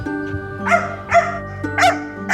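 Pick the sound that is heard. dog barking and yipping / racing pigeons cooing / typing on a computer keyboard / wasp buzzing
dog barking and yipping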